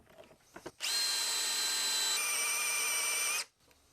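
A power drill bores into a part being fixed for stripped bolt threads, with a close, loud, high whine lasting about two and a half seconds whose pitch shifts partway through, after a few faint handling knocks.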